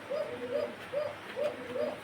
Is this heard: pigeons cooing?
yes